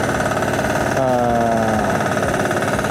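A small FTL720D mini tiller engine idles steadily and loudly throughout, with a continuous mechanical drone and vibration and a slight shift in pitch partway through.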